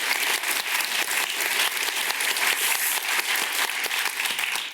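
Conference audience at a healthcare pitch event giving a steady, dense round of applause, many hands clapping evenly throughout with no talk over it.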